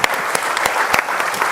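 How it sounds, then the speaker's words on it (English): A forum audience at the close of a panel session gives a brief, full burst of applause, with a few sharper individual claps popping out of the steady clapping. "Give them a massive round of applause."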